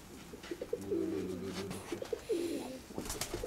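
Pigeons at a dovecote in Dobropillia coo in repeated soft, throaty phrases, close and moderately loud, with a brief rustle near the end and no talking over them.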